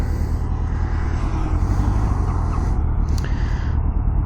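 A 1977 Honda Hondamatic motorcycle engine has just started and runs at a steady idle, a close, loud low rumble that continues without a break and has no talk over it.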